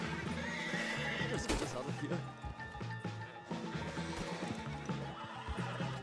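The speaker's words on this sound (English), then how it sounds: "Put Strauss on the back of John's horse" A horse in a video game whinnies loudly amid a busy game soundscape, with hoof clip-clops and scattered impacts layered underneath for several seconds.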